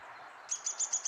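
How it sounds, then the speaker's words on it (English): A Downy Woodpecker gives its whinny call, a fast run of high, sharp notes, four or five in quick succession, fairly faint and at a distance over a steady hiss of outdoor background. "that whinny call, that's again a characteristic Downy Woodpecker vocalization"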